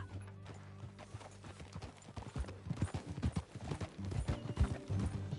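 Hooves clip-clop in a steady trotting rhythm in Red Dead Redemption 2, growing louder and busier as the horse gets going, over a low hum.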